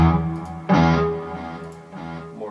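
An electric guitar played through a heavily distorted amp or amp-simulator setup, ringing out a few thick, gritty chords that sustain and decay one after another, close and unaccompanied by speech.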